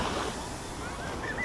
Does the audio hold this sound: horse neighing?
no